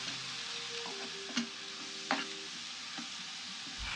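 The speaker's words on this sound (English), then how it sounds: "So you throw in the pepper, onions, and ginger mix into the oil, and now it's already very hot. You start mixing" A pepper, onion and ginger mix sizzles steadily in very hot oil as it is stirred, with a constant close fry and a few sharp scrapes and taps of the spoon against the pot.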